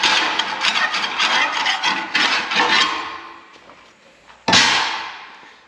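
Someone knocks and scrapes slag from a steel edge cut with an oxy-acetylene torch. Close, gritty rasping and scraping strokes come in clusters, then a single sharp knock rings out and fades near the end.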